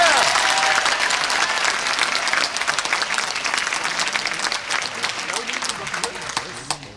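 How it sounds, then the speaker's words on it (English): An audience at a public talk in Thurston County claps loudly and steadily for several seconds, with a dense, even wash of applause that fades slightly toward the end. "Would you applaud, please?"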